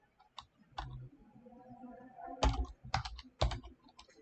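A few scattered keystrokes on a computer keyboard, quiet and close, with two isolated taps early and then a small cluster of sharper clicks near the end, over a faint room background.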